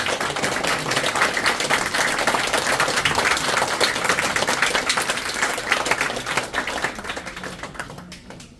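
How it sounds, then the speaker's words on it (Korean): Dense, sustained audience applause fills a hall at a press freedom anniversary award ceremony in Seoul's Press Center, steady and loud for several seconds before tapering off at the end. "큰 박수 부탁드립니다."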